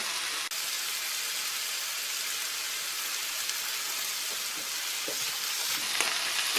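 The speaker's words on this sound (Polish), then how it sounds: "Teraz kapustę z pieczarkami wymieszam i posmażę jeszcze około 5 minut." Steady loud sizzling of cabbage and mushrooms frying in a pan, with occasional scraping and stirring sounds, no talking.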